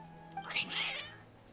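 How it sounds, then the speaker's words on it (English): A cat gives one short, clear meow, close and moderately loud, over a faint steady background hum, with no voices. "Your cats seem pretty worked up."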